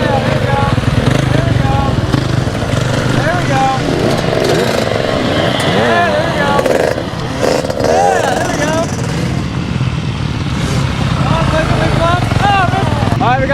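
An enduro motorcycle revs loudly and continuously nearby as it is ridden, its buzzing engine rising and falling in pitch during an off-road riding class, while people talk over it.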